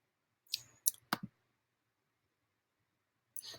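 Computer mouse clicking in a quiet room, a quick burst of four crisp, close clicks followed by a pause and another click at the end.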